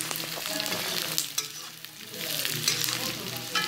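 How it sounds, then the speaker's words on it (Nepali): Onions fry until reddish in a hot pan with a dense, continuous sizzle, and occasional stirring scrapes sit close and fairly loud throughout. "प्याज रातो रातो बनाउने"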